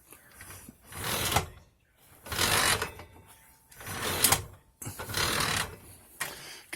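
A USB H-shifter slides back and forth on its mount, giving four or five rough scraping sweeps, each lasting about a second with short pauses between, close and fairly quiet.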